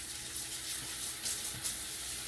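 Tap water runs steadily into a sink while hands are washed with soap before cooking, a continuous moderate splashing wash with no talking.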